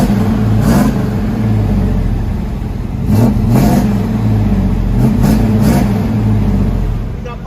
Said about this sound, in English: BORLA Pro Access. That sounds really good.